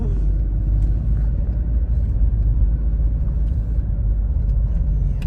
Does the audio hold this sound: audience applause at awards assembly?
no